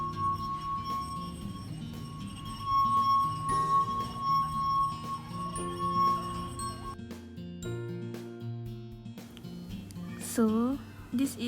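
A wet finger rubbing around the rim of a water-filled glass makes it sing, a steady sustained pure tone for several seconds, followed by clinks and a rising, wavering squeal near the end, close and clear.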